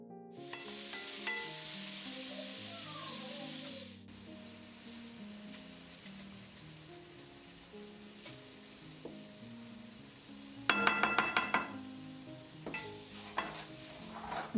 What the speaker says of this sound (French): Commencez par cuire les poireaux à feu moyen. Il est nécessaire de remuer constamment afin que cela ne brûle pas.